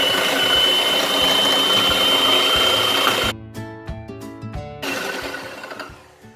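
An electric beater whirs loudly and steadily as it mixes coffee into coffee-cocoa cake batter, then shifts to a humming, tonal drone before fading out near the end.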